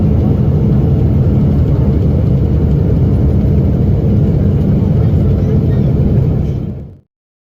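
A United Airlines airliner's damaged engine roars steadily in flight after exploding, a loud, continuous low drone heard from the cabin that cuts off abruptly near the end.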